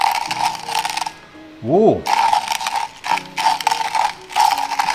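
A coffee grinder crunches through beans that had been stored on a shelf, in harsh rattling bursts with a short pause, while a person exclaims in surprise in the middle.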